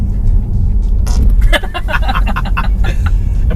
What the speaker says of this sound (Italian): la macchina scorreggia ogni volta che premi il pulsante sul volante